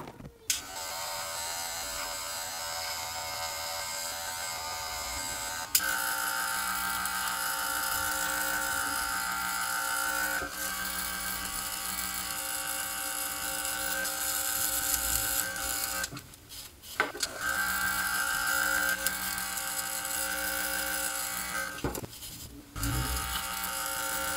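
Electric hair clippers buzzing steadily close up while cutting a back taper during a self-administered haircut on 360 waves, a continuous motor whine with a few brief pauses and pitch shifts as the blade meets hair, with no talking.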